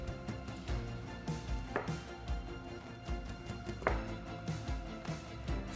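A knife slicing through a cooked potato on a cutting board to make skins, with repeated soft thuds of the blade meeting the board at a steady, unhurried pace, close up and without talk.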